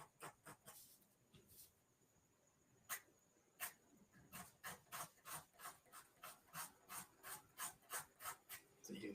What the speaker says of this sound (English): So I'm probably going to have to scrape a lot of this out and then just draw